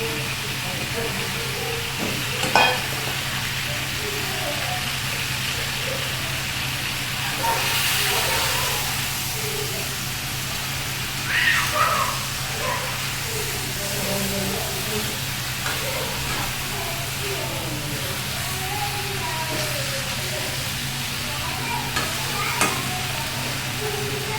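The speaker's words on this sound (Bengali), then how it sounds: "সবজিগুলো বেশ একটু সময় নিয়ে ভালোভাবে ভেজে নিলাম।" Mixed vegetables frying in a pan for khichuri, a continuous hiss and sizzle with occasional scraping stirs and soft clatters, a low hum running underneath.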